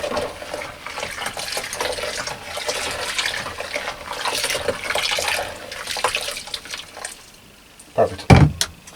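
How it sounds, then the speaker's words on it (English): Boiling water poured from a kettle to top up a container for treating wild bird feathers, a steady broad splashing pour that runs for several seconds, then tapers off and ends with a couple of sharper knocks. "Now I've got a kettle here with boiling water,"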